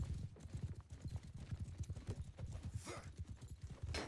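Cavalry hooves in a strategy video game match, fast continuous clip-clop of several horses at a gallop, with faint battle noise and a few sharp hits, no talk.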